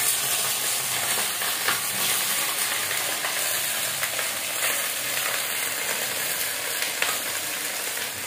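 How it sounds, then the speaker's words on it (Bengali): Okra added to potatoes frying in a pan sizzles steadily and close, a continuous crackling fry with occasional stirring scrapes and no voices. "এবার আমি দিয়ে দেবো ঢেঁড়স।"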